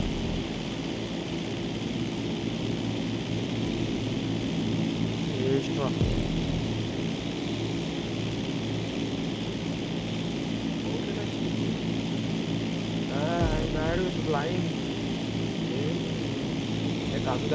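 A propeller airplane in the video game GTA drones steadily throughout, a continuous engine hum with brief voice sounds over it.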